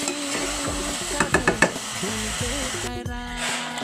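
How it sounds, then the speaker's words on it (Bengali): Potatoes and eggplant fry in a cooked-down spice paste, stirred in a pan with a soft, steady sizzle broken by a quick run of sharp utensil clinks near the middle. No one speaks. "কষানো মশলার ভিতরে আমি আলু আর বেগুনগুলো দিয়ে ভালোভাবে আবার কষিয়ে নিই"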